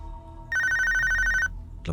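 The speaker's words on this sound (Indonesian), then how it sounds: "tiba-tiba supir yang orang yang tinggal di rumah Pak Tony ini telepon" A telephone rings in one electronic trilling burst of about a second over a low background hum, close and clear, with no talk.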